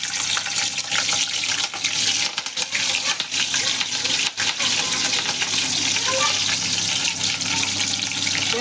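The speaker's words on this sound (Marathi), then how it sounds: "आता या तेलामध्ये आपण या सर्व भाज्या एक एक करून टाकूया। सर्वात प्रथम आपण याच्यामध्ये शिमला मिर्च टाकू" Capsicum drops into hot oil for quick frying ahead of carrot and other vegetables for pasta, making a loud, dense crackling sizzle with uneven bursts and clattering stirs close by.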